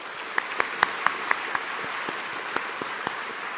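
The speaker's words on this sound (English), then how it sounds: "Let's give a big round of applause to our incredible staff" Applause at a formal banquet of the American Chamber of Commerce in Taiwan, a soft, distant wash of many hands with a few sharper claps standing out near the microphone.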